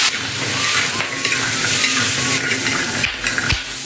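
Chestnuts fry and sizzle in hot soybean oil in a pot, a loud, steady crackling hiss with stirring scrapes near the end and no one speaking.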